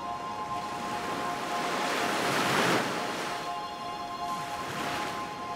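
Small ocean waves wash onto a sandy beach, one surge swelling to a broad hiss and then receding, with a steady surf wash before and after.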